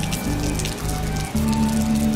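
Steady rain patters continuously, a dense hiss of drops running under sustained low musical tones that shift pitch, with no voices.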